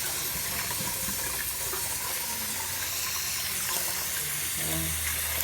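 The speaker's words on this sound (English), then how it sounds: "Put in some more water." Tap water runs steadily into a pot of rice being rinsed, a continuous loud hissing, splashing stream that fills the whole stretch without pause, with no talking.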